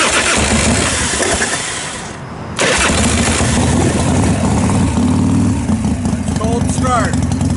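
A 1990 Harley-Davidson Fatboy motorcycle engine cranks briefly, then catches and settles into a loud, steady rumbling idle that continues to the end, close to the listener.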